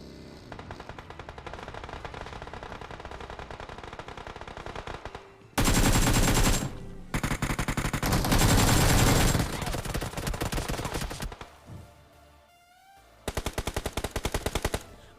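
Gunfire in a BGMI mobile game fight, rapid automatic bursts rattling near and loud, with several intense sustained volleys separated by brief lulls and softer distant shots, no talking.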